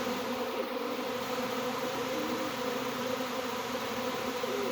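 Crowded honey bees fanning at the front of a hive, early in swarm season, producing a thick, unbroken droning hum at constant loudness, near and without voices.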